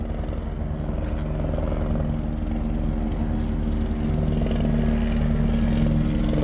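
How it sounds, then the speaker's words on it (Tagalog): Helicopter flying overhead, a steady low throbbing rotor and engine drone that holds through the whole stretch and swells slightly toward the end, with no talk. "Ayun, may helicopter."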